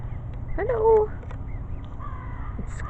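A magpie gives a few short, harsh squeaky calls outdoors, fairly close, over a low rumbling background.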